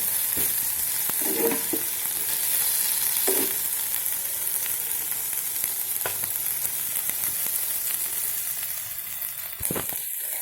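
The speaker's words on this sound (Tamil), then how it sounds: "நல்லா தக்காளி வந்து வதக்கிட்டு கொஞ்ச நேரம் அப்படியே வேக வைக்கணும்." Tomatoes sauté in a pan for a quick side dish for chapathi, with a soft continuous sizzle and occasional spoon scrapes and clinks against the pan, fairly quiet and with no talking.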